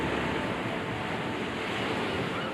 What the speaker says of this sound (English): waves assail the rocks with surging strength.